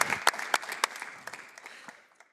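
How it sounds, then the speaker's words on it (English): Audience applause at the RE+ 2024 solar energy conference after a stage segment: a brief burst of clapping that quickly thins into a few scattered claps and fades out. "let's give them a round of applause."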